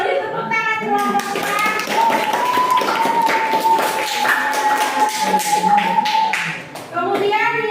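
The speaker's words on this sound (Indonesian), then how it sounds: "Beri tepuk tangan kelompok" Classroom group applause for the most active student group, rapid uneven clapping from many hands, close and loud, with children's voices over it and a brief pause near the end.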